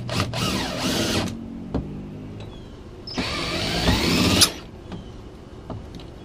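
A power drill drives screws into the pipes of a homemade kayak trolley built for a Hobie Pro Angler, in two close, loud whirring bursts of about a second each, separated by short clicks and knocks.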